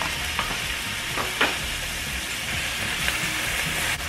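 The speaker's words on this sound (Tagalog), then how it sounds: "isunod na po natin itong ating pork para magisa na rin po" Pork sautés with garlic in a hot pan, a loud, continuous close-up sizzle with a few stirring scrapes and taps.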